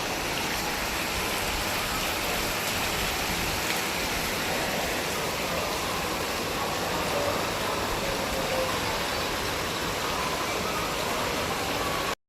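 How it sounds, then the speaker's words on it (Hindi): Heavy rain pouring down outdoors, a constant dense hiss of drops on surfaces that holds steady throughout, with no speech. "अभी ना बारिश और ज़्यादा तेज़ हो गई है"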